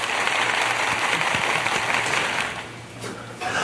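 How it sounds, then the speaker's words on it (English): Applause greeting a guest at a virtual gathering, a dense, steady wash of clapping that holds for about three seconds, dips briefly, then swells again. "Let's give a rousing round of applause for Dr."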